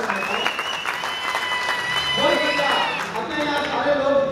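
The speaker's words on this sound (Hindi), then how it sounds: "अगर अच्छा लग रहा हो तो एक बार जोरदार ताली बजा" An audience at a Hindi stand-up comedy show breaks into sustained applause, with crowd noise and voices mixed into the dense clapping throughout.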